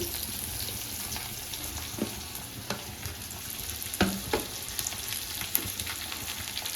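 Green chillies and onions frying in a pan for a dondakaya chutney: a steady, soft sizzle with a few scattered light scrapes and clicks of stirring, and no talking.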